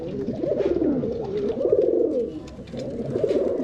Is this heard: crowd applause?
no